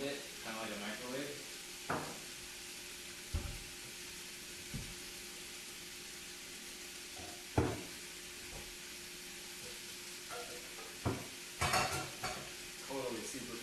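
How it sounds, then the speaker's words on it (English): Food sizzles steadily inside a covered pan, a quiet continuous frying hiss punctuated by occasional clanks and knocks of utensils and cookware nearby. "when something's cooking, you cover the pan, all the heat gets trapped in there"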